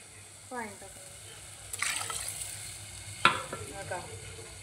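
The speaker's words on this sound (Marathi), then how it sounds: "पाणी टाकलं" Water hits hot masala in a pan and bursts into a sizzle, with stirring clatter and a sharp metallic knock; the frying hiss rises and fades, heard close with a voice in between.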